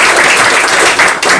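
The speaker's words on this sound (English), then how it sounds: "let's give you guys a round of applause for that" People at an Oxford borough council meeting give a brief, loud, close burst of dense clapping with a small dip near the end.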